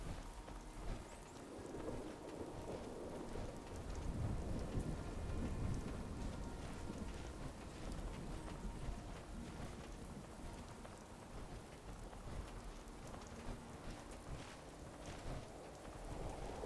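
Steady rain falls in a video game, with low rumbling thunder swelling near the start and fading out, a continuous wash of downpour throughout and no talk.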